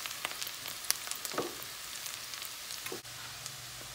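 Onions frying in butter in a pan, a steady low sizzle with a few soft stirring scrapes and clicks, close up and free of talk.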